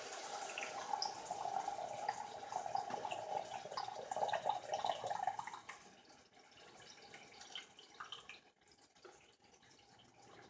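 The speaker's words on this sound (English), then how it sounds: "Add a little bit of water to the can, swish it around to get out all the rest of that tomato sauce" Water poured into a tomato sauce can and swished around to rinse out the remaining sauce, a close trickling splash for several seconds that fades into quieter sloshing and faint drips.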